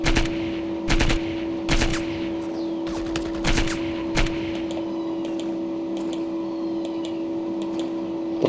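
Sharp, separate gunshots in the video game Project IGI ring out in short clusters over a steady electronic hum, spaced irregularly and fading to quieter ticks toward the end.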